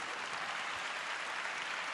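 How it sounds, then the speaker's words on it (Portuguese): Applause from a congregation at a pastors' congress, a soft, distant, even wash of clapping with no break in the short stretch. "A filha dele, pode aplaudir."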